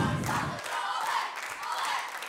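Studio audience at a televised talent-show gala cheers and shouts loudly, a dense, sustained crowd roar filling the whole moment without a break.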